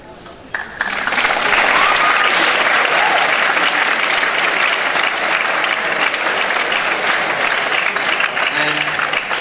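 School assembly audience applauding students at an awards event, a quiet start that swells within a second into loud, full, sustained clapping from a large crowd, holding steady throughout.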